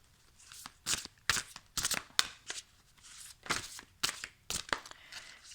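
Oracle cards are shuffled by hand in quick, crisp riffling bursts that repeat steadily, close and fairly quiet, with no voices.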